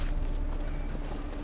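Rapid hoofbeats of a horse in The Witcher 3 pound through a dense, noisy battle mix, steady and fairly close throughout.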